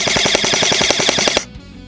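Rapid full-auto bursts of G&G airsoft replicas firing BBs, a fast even rattle of sharp clicks for over a second, close and loud, then stopping abruptly.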